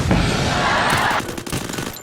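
A rapid burst of automatic gunfire crackles for about a second, then gives way to scattered, sharper shots and clatter in the game Free Fire.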